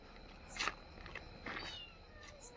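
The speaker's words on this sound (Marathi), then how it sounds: "मांजरीचा आवाज येतोय" A cat meows a few times, short faint mews spread across a quiet background, with no one talking.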